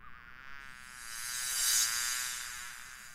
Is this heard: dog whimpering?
no